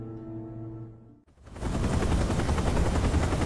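A helicopter arrives as a sudden, loud, rapid chopping rotor beat that cuts in after a quiet musical tone and continues steadily close by.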